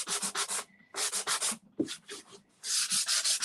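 Hand sanding with sandpaper over a transfer on a table top, heard as three bursts of rhythmic back-and-forth rubbing strokes with short pauses between, close and fairly loud, no talk.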